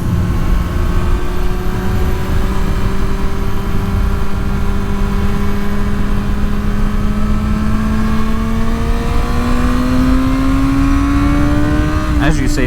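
A 2023 Kawasaki Ninja ZX-6R motorcycle accelerates hard on a twisty backroad from about 35 to 80 mph, a loud, close engine whine climbing steadily in pitch over several seconds amid heavy wind rush.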